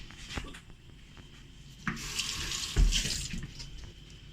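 Tap water running over a vegetable being washed in a kitchen sink: soft splashes at first, then the stream strengthens into a louder, close hiss with a few heavier spatters as the vegetable is handled under it.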